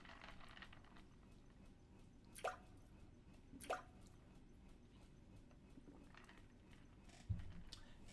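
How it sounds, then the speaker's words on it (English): Water drips in the video game Sound of Drop - Fall Into Poison: a few sparse, separate drops land at uneven intervals over a quiet, low ambient hum. "The sound of falling drops."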